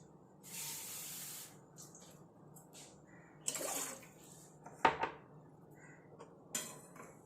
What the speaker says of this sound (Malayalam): ഒരു പാൻ അടുപ്പത്ത് വെച്ച് അതിനകത്തേക്ക് ഒരു ഒന്നര ഗ്ലാസ് വെള്ളം ഒഴിക്കുക